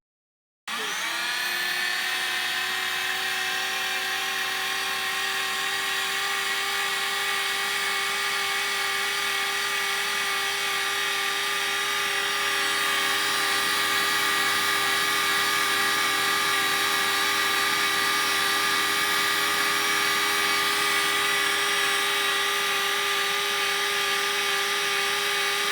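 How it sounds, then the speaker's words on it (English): ExOn C3 handheld plastic welding extruder running steadily, a continuous high-pitched motor whine with a steady tonal hum that starts abruptly and holds at an even level throughout, with no voices. "As you were able to hear, the ExOn C3 is less noisy than other extruders."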